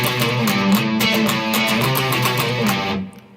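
Electric guitar playing the short interlude riff from a song, quick trilled notes over a distorted, steady tone, close and alone, cutting off abruptly near the end.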